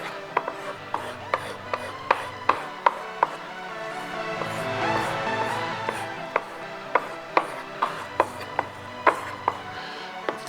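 A homemade kitchen knife drawn along the coarser side of a leather strop, giving a steady run of sharp, evenly spaced slaps and short rubbing strokes, close and fairly loud, with no talk.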